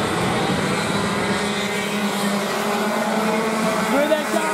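Junior KA4 racing karts buzz past on a circuit, a continuous high-pitched engine drone that stays loud and close, with a race commentator talking over it.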